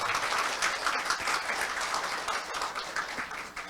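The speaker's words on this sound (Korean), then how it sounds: "여러분 박수로 맞이해 주시기 바랍니다." Steady applause from a forum audience greeting a university president at a formal event, sustained clapping from many hands throughout.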